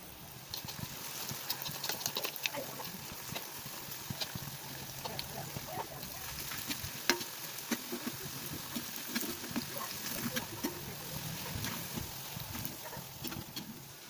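Cauliflower pieces for gobi manchurian bubble in a pan of hot oil, a faint, continuous crackling hiss with scattered pops and occasional light clinks, heard alone without talk.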